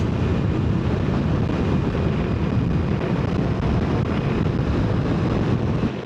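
Steady, heavy roar of wind buffeting the microphone while riding a Ducati Multistrada V4 Rally at highway speed, a constant loud low rumble that barely changes throughout.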